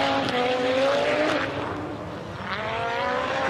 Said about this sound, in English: The iconic sound of the Audi S1 Quattro.